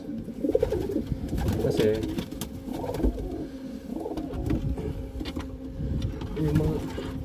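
Racing pigeons cooing in a loft, a steady overlapping chorus of low, throaty coos close by, with a brief word spoken partway through.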